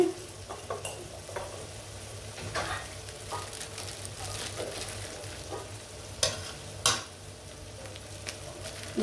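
Ginger-garlic paste fries with capsicum chicken in a pan, giving a steady sizzle and frying hiss broken by the scrape and clack of stirring, close up and with no talk.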